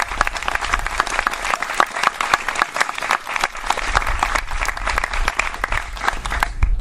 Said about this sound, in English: One more round of applause for Daniel.